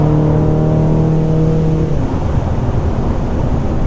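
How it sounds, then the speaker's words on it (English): A tuned 800 bhp BMW F13 M6 engine roaring under hard acceleration with wheelspin in fifth gear, a sustained loud drone that turns rougher and noisier partway through. "We were wheel spinning then in 5th gear."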